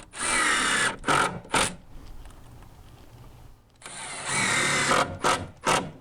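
A cordless drill drives screws into deck stair boards and stringers, whirring in close, loud bursts: a long run with short follow-up pulses, a quiet pause, then another long drive and quick pulses.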